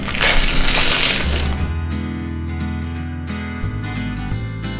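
Crushed glass pieces are handled and shifted on a level surface while making a resin bowl, giving a loud, dense crackling rattle at first that gives way to a steady low rumble.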